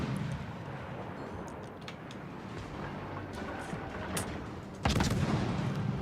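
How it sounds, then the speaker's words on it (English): Naval guns on the British destroyer HMS Medea firing in World of Warships, with scattered distant gun reports and crackles over a low rumbling battle ambience, then one loud, close salvo near the end. "at least that way I'm able to get my guns firing over here"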